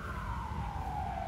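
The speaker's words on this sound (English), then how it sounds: "There is some police car. I'm not sure if you can hear this." A police car siren wails in one long, slowly falling tone as it passes at moderate distance, over a steady low traffic rumble.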